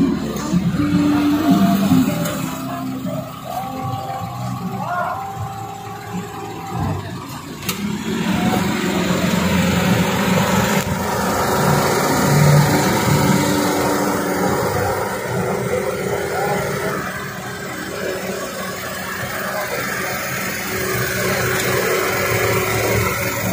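A 2021 Daihatsu Ayla engine runs steadily at idle, a continuous mid-pitched hum with a slight rise partway through, close by and heard alone without talk.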